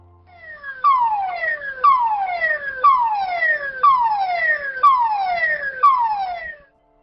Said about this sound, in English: In case of a gas leak, you will hear this alarm.